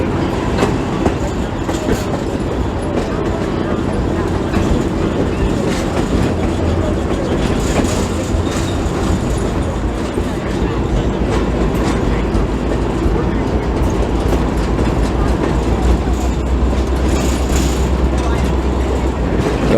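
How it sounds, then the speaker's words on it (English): A train at the Nevada State Railroad Museum in Boulder City, Nevada rumbles and clatters steadily along the rails, loud and close, a continuous rolling din with rhythmic clacking throughout. "Train's going to continue up the track and we'll see where it goes."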